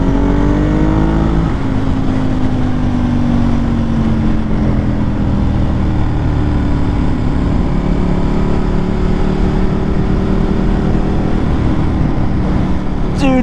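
Ducati 1098 superbike engine revving hard while being ridden, a loud, continuous high-pitched roar with rising and falling pitch sweeps as gears change, close to the bike throughout.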